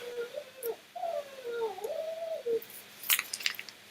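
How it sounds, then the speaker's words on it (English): A dog whines and howls in a long, wavering, high-pitched note for a few seconds, close by, followed by faint rustling. "I have a dog here that is making noise."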